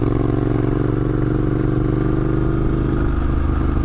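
A Triumph Scrambler motorcycle engine drones loudly and evenly while riding, a close, steady rumble with a rough, throbbing texture and no pause.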